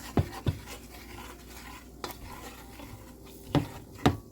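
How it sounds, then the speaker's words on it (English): A spoon stirs ingredients in a pot for a creamy ravioli bake, giving a soft scraping swirl with several sharp knocks against the pot, quiet and close. "Go ahead and stir this."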